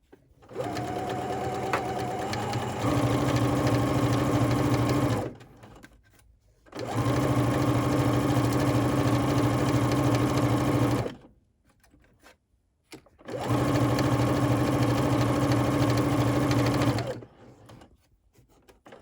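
Sewing machine stitching a collar band, three long steady runs of rapid, even needle chatter separated by brief pauses, close and clear with no talk.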